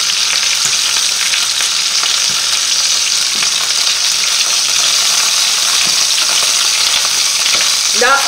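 Rabbit meat fries in oil in a pan, giving a steady, loud, dense sizzle throughout with occasional faint clinks of stirring.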